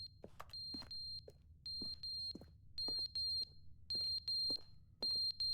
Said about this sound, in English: Is that like a smoke alarm